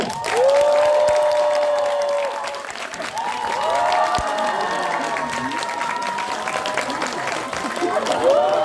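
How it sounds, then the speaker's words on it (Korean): A cinema audience applauds warmly with some cheering at a film stage greeting at CGV Yongsan, while voices carry over the clapping. "저희 큰 박수로 맞아주십시오"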